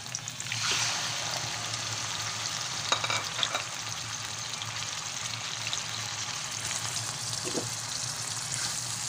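Pork sautéing in a pan, a loud continuous hissing sizzle with a few clattering stirs of the spatula, close up and without speech.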